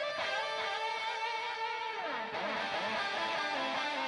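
Guitar line with delay, diffused by a light Valhalla Plate reverb, smeared overlapping notes that descend midway and keep ringing in a dense, quiet wash without any talking.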